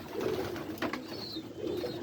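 White pigeons coo in a loft, low murmuring calls close by with a faint higher chirp partway through, alone without talk.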